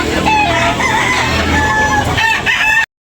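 A ten-month-old rooster at a chicken market crows loudly and close, one long drawn-out call lasting nearly the whole stretch before cutting off abruptly.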